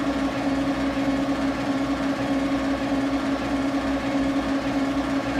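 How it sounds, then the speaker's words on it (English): A rally car, the JRX S6 at a French R7 event, holds a steady, loud engine note close by, droning evenly with a strong low hum and no distinct rev spikes, heard alone without speech. "Revs."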